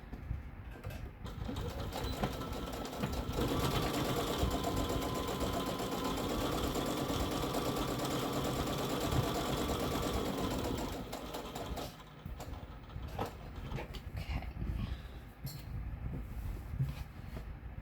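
A sewing machine runs a steady, close, buzzing stretch of simple stitches on an apron, followed by lighter clicks and handling sounds as the fabric is adjusted.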